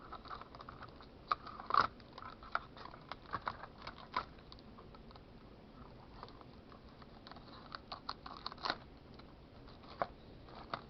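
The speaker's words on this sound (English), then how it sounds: "I'm going to take my knife and I'm just going to cut these off because I got to get to the inside" A knife slicing and snipping plastic parts off a homemade RC Warthog model, heard as quiet, scattered clicks and scrapes with short bursts of cutting at close range, and no talking.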